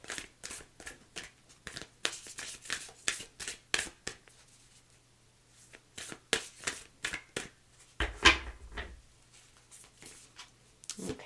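A Moonology oracle card deck is shuffled in quick, papery riffles and taps, close and fairly quiet, with a brief louder burst partway through.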